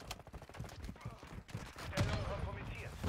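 Semi-automatic gunfire in the video game Call of Duty Warzone 2.0, a quick run of sharp shots cracking over game noise, with voices talking alongside.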